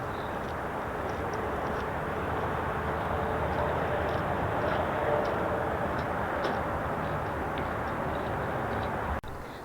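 Steady, continuous traffic roar from the I-93 highway beside a lake, heard from the lakeside dock as a constant broadband wash at moderate level with no talk, ending in a brief thump near the close.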